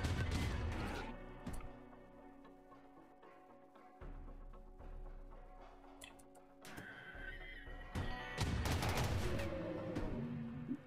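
Gunfire in the video game Rimworld comes as bursts of sharp shots at the start, around four seconds and near the end, over a busy layer of game sounds and a horse-like neigh.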